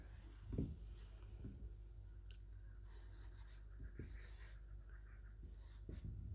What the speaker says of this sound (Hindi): तो परिभाषा लिखिएगा, लिखेंगे नीचे से लिखते हैं